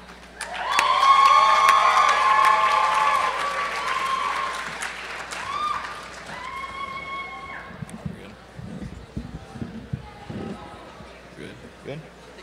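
An audience at a teach-in for justice breaks into loud applause and some cheering, which swells quickly, holds for several seconds, then thins into scattered claps and crowd murmur.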